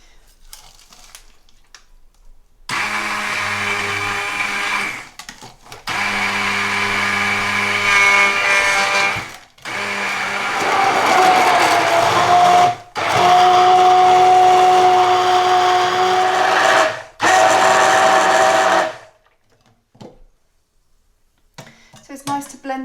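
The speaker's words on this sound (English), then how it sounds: "So it's nice to blend this together well so all of the sugar and salt dissolves nicely" An electric blender whirs loudly in several long pulses of a few seconds each, mixing golgappa pani water with sugar and salt, with short pauses between runs.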